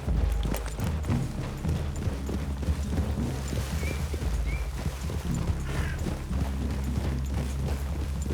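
Horses walk through a clearing in Red Dead Redemption 2, their hooves clopping softly and irregularly beneath low ambient game sound, with occasional faint thuds and rustles.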